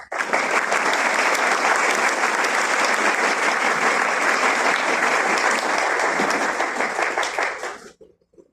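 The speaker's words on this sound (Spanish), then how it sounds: "Claro que vale la pena este fuerte aplauso con esta gran noticia" Loud, sustained applause from an audience at a university research-week event, a dense wash of clapping lasting about eight seconds before cutting off abruptly.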